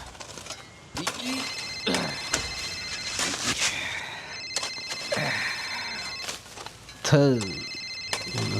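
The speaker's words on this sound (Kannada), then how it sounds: "ಗೋಪಾಲ, ಫೋನ್ ಎತ್ತೋ, ಅರ್ಜೆಂಟ್ ಇದೆ." Repeated electronic telephone ring tones sounding in bursts, with a person talking in between and over them.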